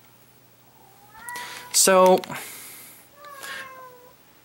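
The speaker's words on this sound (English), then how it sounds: "Now you see what I go through when it comes to my cats crying constantly." Domestic cats meow and cry in a home, several drawn-out harmonic meows with one loud, sharp cry in the middle, mixed with a person speaking softly.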